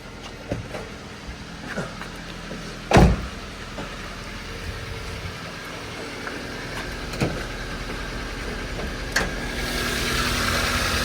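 Engine of a Toyota Avanza with an oil leak idling steadily with the hood open, a continuous mechanical hum broken by occasional clicks and knocks and one sharp thump, heard close up.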